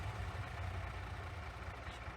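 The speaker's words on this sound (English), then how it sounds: "Oops, I suppose it helps I start the engine." Steady low rumble of a vehicle engine idling in Farming Simulator 22, a quiet, even drone with no talk.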